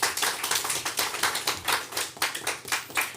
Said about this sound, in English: Can you give them an applause, please?